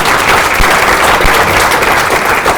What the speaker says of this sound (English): But please first a round of applause for the guests.